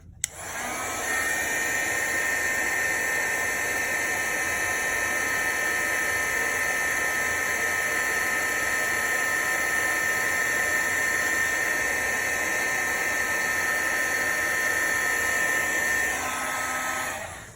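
A heat tool blows continuously to melt embossing powder during a Distress Oxide ink craft project, a loud, steady, close whirring hiss that runs without a break for about sixteen seconds, then cuts off.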